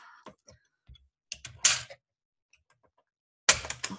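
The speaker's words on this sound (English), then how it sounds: "now I'm going to cut my wire" Scissors snip through wire at a scrapbooking table: two sharp, close cutting bursts with scattered small clicks between them and no talk over them.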